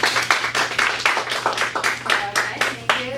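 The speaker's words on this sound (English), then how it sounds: "Round of applause" A small audience at a typography training session claps for the next speaker in a rhythmic, moderately loud patter of individual hand claps over a low electrical hum, with a voice briefly under it.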